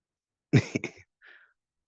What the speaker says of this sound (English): Sorry, I had to cough there for a second.